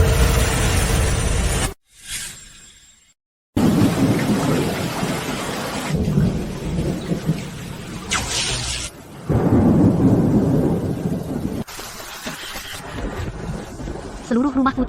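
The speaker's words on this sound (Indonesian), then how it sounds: "Hujan lebat." Heavy rain pours hard with rumbling thunder, loud and close, broken by a couple of brief cut-ins and changes of scene, with speech heard in places.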